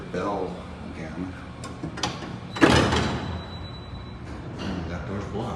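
An Otis touch-sensitive traction elevator door at a shopping mall in Niles, Illinois slides along its track and closes with a firm thud near the middle, against a low steady background hum.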